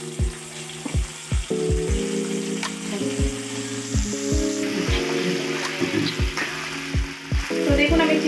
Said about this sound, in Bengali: তো চিকেনের টুকরোগুলো রসুনের সাথে আমি একটু এটাকে ভেজে নেব